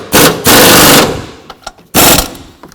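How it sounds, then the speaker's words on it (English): Bursts of a pneumatic impact wrench tightening mount bolts on a 2009-17 Chevy Traverse during camshaft position sensor work: two loud, close rattling bursts separated by a pause with faint clicks. "And tighten the bolts down."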